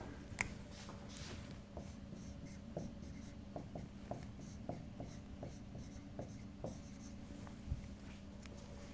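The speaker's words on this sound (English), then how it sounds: "Let me write it up here." Marker or chalk strokes on a lecture-hall board, a steady series of short taps and squeaky scrapes at close range with a low room hum underneath and no talking.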